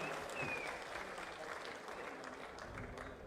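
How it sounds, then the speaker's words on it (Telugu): A public audience applauds at a Chief Minister's programme in Vemuru, sustained distant clapping heard faintly as an even, muffled patter with no pauses. "గట్టిగా చప్పట్లు కొట్టి అభినందించండి."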